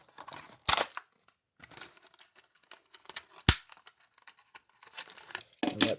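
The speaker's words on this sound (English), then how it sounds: "Let's get this out of the packaging." Plastic and cardboard packaging of a gray 2017 Nissan GT-R R35 Hot Wheels diecast car being torn and crinkled open, with sharp rips and rustling bursts spread over several seconds, close and fairly quiet, no talking.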